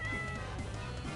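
A cat meows in the video game Deltarune, one short, quiet mew heard over a steady background of game music.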